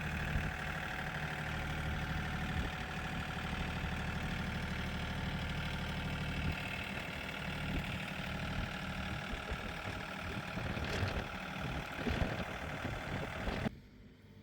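A small tractor engine labours under a heavy pallet load, a loud, steady low drone with knocking rough edges that shifts pitch midway, then cuts away abruptly near the end.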